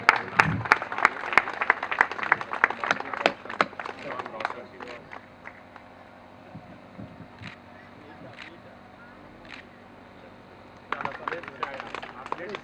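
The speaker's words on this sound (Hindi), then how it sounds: "तालियां बजनी चाहिए।" Crowd at a Govardhan puja celebration in Bihta, Patna, claps in loud scattered bursts at first, thinning to sparse isolated claps, with outdoor background noise and a brief renewed burst near the end.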